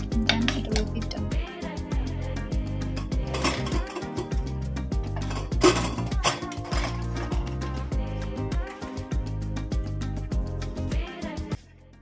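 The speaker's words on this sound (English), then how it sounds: "I did the dishes" Dishes, pots and pans being washed in a home kitchen, with steady clinks and clatters of cutlery and cookware over running water, continuous and close for about twelve seconds before stopping abruptly.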